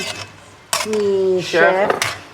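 Pork steak and onion toppings stirred in a metal pan: close, loud clanks and scrapes of a utensil against the pan, with ringing metallic tones between strikes.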